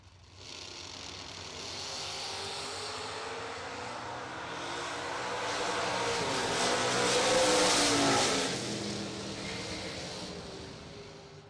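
A Chevy S10 truck and a Camaro at a bracket drag race roar past, engine noise swelling from moderate to a loud peak and then fading into the distance.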